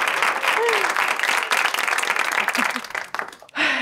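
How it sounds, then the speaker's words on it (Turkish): A talk show audience claps loudly and steadily in a burst of applause, dipping near the end before a voice starts speaking. "Müthiş ya, bir alkış alalım Emre'cim."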